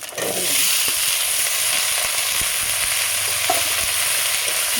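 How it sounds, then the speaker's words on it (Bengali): Cut potatoes go into ginger-garlic paste frying in oil for aloo posto, raising a loud, steady, close sizzle with a few faint clicks from the pan. "এখন আমি দিয়ে দেবো কেটে রাখা আলুগুলো"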